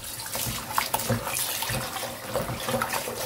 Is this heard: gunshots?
no